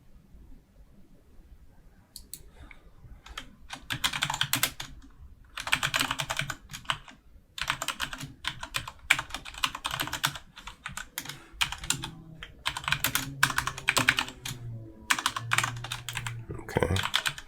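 Code being entered on a computer keyboard: rapid bursts of crisp key clicks in uneven runs separated by short pauses, close and clear, with brief quiet stretches between flurries.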